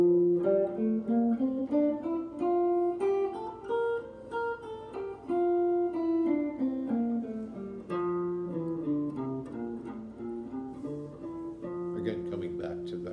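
An electric or acoustic guitar plays a scale pattern in F, starting from A on the sixth string, as a practice warm-up: a steady run of single picked notes, moderately loud and alone, ending back on the root.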